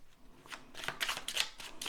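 Mini Rider-Waite-Smith tarot cards being shuffled by hand, a quick series of soft papery riffles and flicks close up, quiet and rhythmic.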